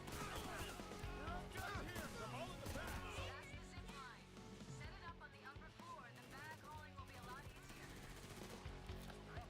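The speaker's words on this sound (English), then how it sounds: "This shotgun's so not fair." Shotgun fire in the video game Payday 3: repeated loud blasts and crashing impacts in a dense, busy mix of game sound and chatter.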